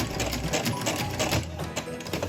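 A sewing machine stitches along the edge of a quilted pumpkin table runner, running continuously with a fast, even mechanical whirr close by.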